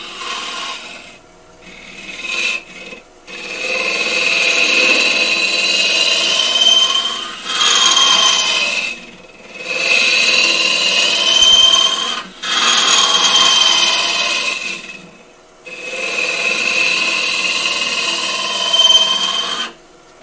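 A small 6mm carbide cutter shaves the thin wall of a wood-turning piece on a lathe, a loud scraping rasp in several long passes separated by short pauses.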